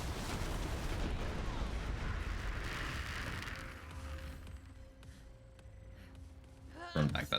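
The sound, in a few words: explosions in a video game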